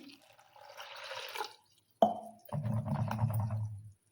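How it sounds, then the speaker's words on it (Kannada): Water is poured into a container of sago pearls to cover them for overnight soaking, starting with a brief splash and then a steady, low filling gurgle after a quiet gap. "ಇದಕ್ಕೆ ಮುಳುಗುವಷ್ಟು ನೀರು ಹಾಕಿಡ್ತೇನೆ ರೀ"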